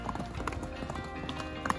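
Horses on a pony camp trail ride move at a canter, their hooves clip-clopping in a steady, close rhythm with an occasional louder strike near the end.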